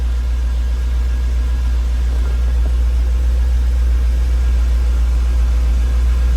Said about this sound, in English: Oh, the fan, we got the fan.